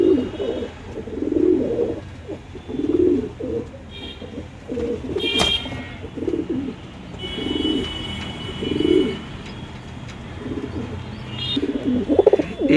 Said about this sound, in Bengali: এই এক পেয়ার আমার ফুলশিরা পায়রা